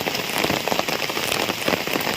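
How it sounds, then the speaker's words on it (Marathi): Heavy rain falls in Guhagar in the Konkan region, a dense, close patter of drops hitting surfaces that holds steady throughout, with no voices. "आज अचानक पावसाने हजेरी लावलेली आहे"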